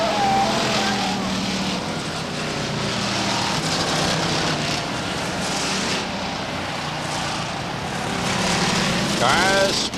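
Stock cars race at Beech Ridge Motor Speedway, a steady, dense engine roar with a few passes swelling louder, under a commentator's voice.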